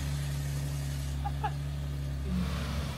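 A Nissan G35 engine runs steadily at close range as the car pulls away, a low continuous drone with a faint rise in revs near the end and no talk over it.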